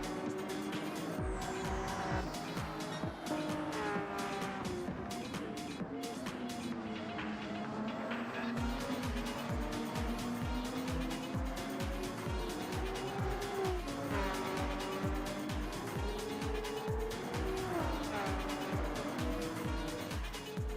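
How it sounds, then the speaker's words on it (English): An iRacing-style sim race car slides out of a corner, its engine droning loudly and steadily while tires squeal, with pitch rising and falling through the run and a brief dip partway in. "Sliding out the corner."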